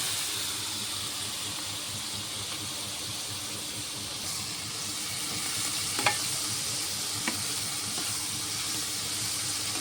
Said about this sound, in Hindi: अब हम ऑनियंस फ्राई करेंगे।